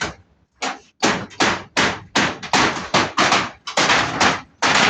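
Hammer blows on nails while an old kitchen is torn out, about a dozen sharp, loud, close strikes in an irregular rhythm with short pauses between them.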